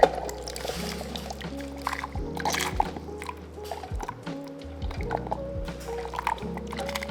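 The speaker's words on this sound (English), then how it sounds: "I just want to test the water coming out of the tank." Water trickling and dripping from the tank outlet of a Donlim coffee maker, a steady close liquid patter with a low appliance hum underneath.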